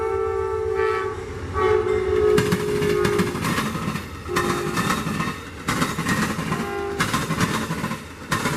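A train rumbles past close by in Central Florida, near a rail diamond, with a steady roar and clatter of wheels, its horn sounding in several long blasts.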